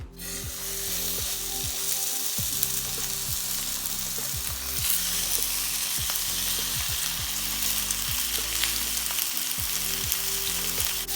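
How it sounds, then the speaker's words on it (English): Steaks sizzle hard in a hot skillet, a loud, continuous crackling hiss with bursts of spitting fat and a low hum beneath, no voices. "Now it's time to get these bad boys into the hot skillet."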